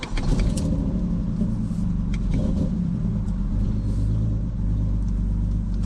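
Turbocharged BMW E46 with a blown engine, idling with a steady low rumble close by, a few light ticks and clicks over the continuous drone and no talk.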